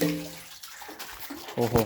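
Water runs and splashes steadily from an aquarium tank, a soft rushing flow, with a voice speaking over it near the end.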